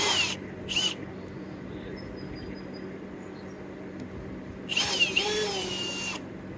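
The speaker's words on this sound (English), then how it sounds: "Just the smallest drill bit." A small cordless drill fitted with its smallest bit whirs in two short bursts near the start, then runs again for a longer stretch later, close and fairly loud over a low background hum, with no talking.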